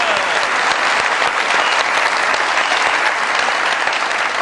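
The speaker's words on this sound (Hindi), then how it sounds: "बहुत सारी तालियां।" Loud, dense applause from a studio audience on a Pakistani comedy show, sustained and even for several seconds, with crowd noise mixed in.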